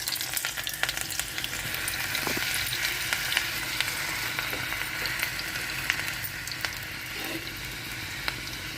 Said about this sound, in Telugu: ఆయిల్ వేడవిందండి. ఉల్లిపాయలు వేసుకుందాము.